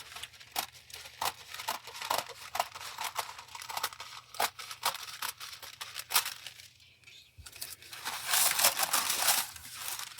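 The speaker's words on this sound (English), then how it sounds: "These are my paper cutting scissors" Paper-cutting scissors trimming material for a rebound book cover, making repeated crisp snips and crinkly rustling close by, with uneven rhythm and a short pause before a busier burst of crinkling.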